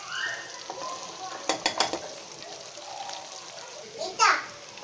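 Boiled noodles, tossed with a little turmeric, fry in a pan with egg and chicken, a loud close sizzle broken by several sharp stirring scrapes and clanks, with faint voices in the background.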